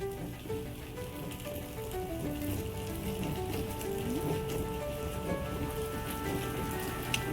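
Soft, steady patter of light rain falling on surfaces, a continuous gentle hiss with faint tonal sounds in the background.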